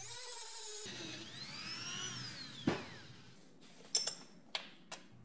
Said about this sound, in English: For those bits I can't reach with the bench grinder, I'm going to use the rotary tool and some steel wire bits.